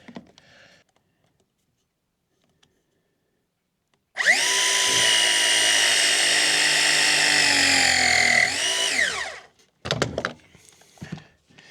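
A press-fit tool crimps a pipe fitting for a radiator connection, one loud steady motor whine lasting about five seconds that winds down, followed by a few clicks and handling noises.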